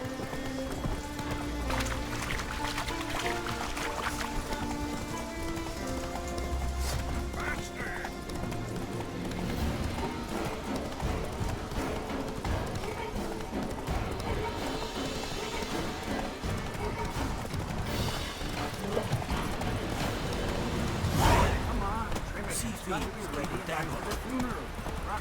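Roach the horse galloping in The Witcher 3 in Skellige, steady rhythmic clip-clop hoofbeats running throughout under game music and frequent talk, with a louder thump near the end.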